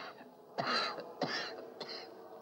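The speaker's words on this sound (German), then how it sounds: "Das ist nur ein leichter Husten, den ich mir gestern in der Bahn geholt habe." A man with a cold gives a light, dry cough, three short hacking bursts in quick succession in a quiet room, from a 1943 period film.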